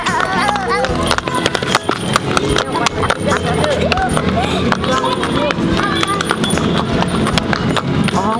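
Horse hooves clip-clop at a steady trotting rhythm during a ride, close and fairly loud, with people talking and chattering over the hoofbeats throughout.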